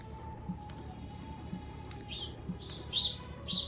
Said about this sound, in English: Wow, that bird is really loud.